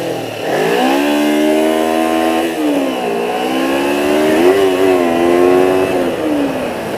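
A 2006 Kawasaki Ninja 250 motorcycle accelerates hard up close, its high-pitched engine whine rising steadily through the gears, with short dips at each shift before climbing again.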